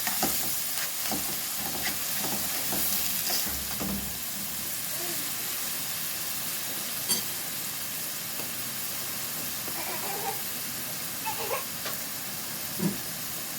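Ingredients stirred briefly in a hot pan with a light, steady sizzle and hiss, scattered scraping clicks of the spoon throughout, close and moderately loud with no talking.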